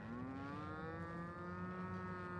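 Cows aboard a spaceship in the video game The Outer Worlds let out a single long, droning moo, quiet and steady, with no talking.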